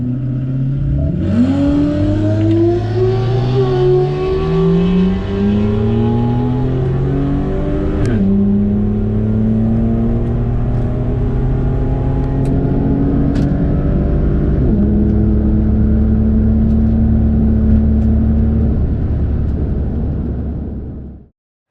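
A modified Ford Falcon with a naturally aspirated Barra engine launches down a drag strip. The engine is loud and close, climbing through gears in long rising revs with brief shift dips, and stays steady until an abrupt cutoff.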